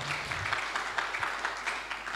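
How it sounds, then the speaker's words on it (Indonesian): Congregation at a Sunday church service clapping together in a steady, fairly even patter, moderately loud and sustained throughout, with a low murmur beneath. "Tepuk tangan untuk mulia nama Tuhan kita."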